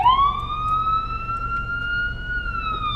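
A loud electronic police siren in a video game wails in a sustained, slowly rising tone, close and continuous, with no talking over it.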